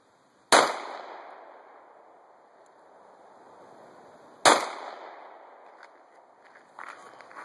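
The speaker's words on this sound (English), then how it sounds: "Cindy is going to shoot her new handgun" Two sharp, loud handgun shots from a Smith & Wesson M&P 9mm fired at an outdoor range target about 10 yards away, spaced roughly four seconds apart, each followed by a ringing decay.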